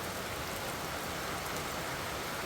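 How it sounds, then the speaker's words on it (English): Steady, dense rainfall hisses evenly and loudly throughout during a wet outing near Maskeliya and Hatton in Sri Lanka, with no voices. "The rain is not going to stop."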